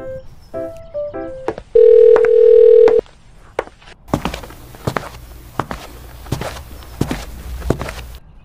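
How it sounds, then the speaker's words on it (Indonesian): A telephone is dialed in the Sakura School Simulator game: a quick series of short keypad beeps, then a steady sustained tone, followed by several soft thuds and footsteps. "Sip, kalau gitu gue telepon Yola dulu ya."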